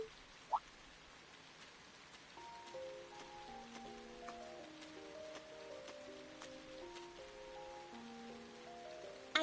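Steady soft rain patters in a rainy scene from the video game Trails of Cold Steel, a faint even wash with gentle musical tones drifting over it and no speech.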